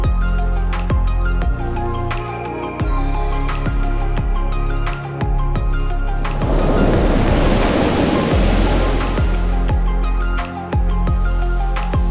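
Loud ocean surf on an Icelandic black sand beach, with a wave crashing and washing in, heavy wind buffeting the microphone throughout.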